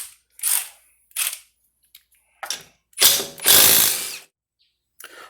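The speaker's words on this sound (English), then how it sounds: "I'm going to get this tire off" Ratchet wrench loosening lug nuts to remove a wheel from a 1993 Honda Civic, several short bursts of close clicking separated by pauses, the longest run near the end.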